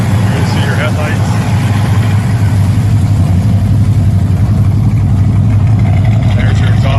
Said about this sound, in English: There's your exhaust. Got a nice sound to it.